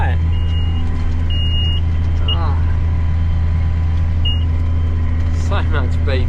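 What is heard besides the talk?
vehicle reversing beeps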